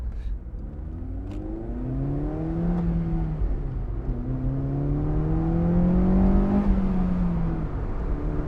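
A Honda S2000 AP1 with its 2-liter, 9,000 rpm engine revs up under load in two rising pulls, its tone climbing steadily, heard from inside the car over road rumble.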